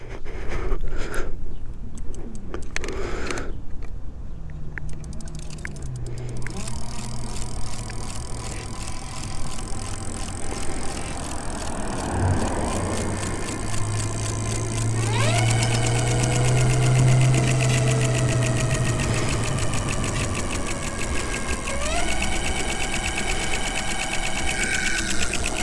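An electric motor spins a bicycle-style wheel fitted with an aluminum disc brake, a steady whirring hum that rises and shifts in pitch midway, with a continuous mechanical rattle throughout and no talking.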